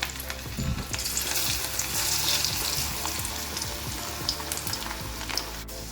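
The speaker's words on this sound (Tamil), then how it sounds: "இப்போ எண்ணெய் வந்து சூடாயிடுச்சு. ஒன்று ஒன்றா போட்டு பொரிச்சு எடுத்துடலாம்." Steady sizzling and crackling of cauliflower pieces deep frying in hot oil, continuous and close, with occasional soft stirring sounds and no voices.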